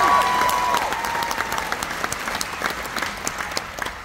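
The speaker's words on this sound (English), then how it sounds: "Give him a big round of applause again." Concert audience applauding at a show at the Carolina Opry, a sustained crowd ovation with some cheering that slowly tapers, no speech over it.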